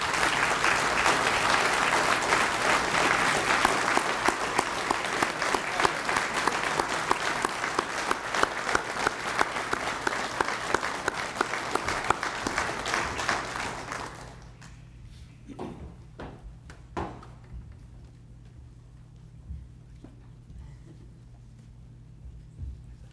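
A large audience at a fire department awards ceremony applauds with dense, sustained clapping for about fourteen seconds, then it drops away to a quiet room with a few scattered late claps and knocks.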